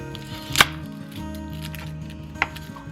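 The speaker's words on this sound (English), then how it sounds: "I'm just going to cut the ends off" A kitchen knife trimming the ends off garlic cloves on a board, two distinct sharp chops, the first louder, over soft background music.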